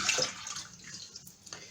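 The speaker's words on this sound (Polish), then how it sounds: "Z mlekiem, tak, tak, już otwieram, a już tutaj nalewam." Milk is poured from a bottle into a bowl while making pepper crepes, a short liquid gush that starts strongest and then trails off into faint trickling and splashes, close and fairly quiet.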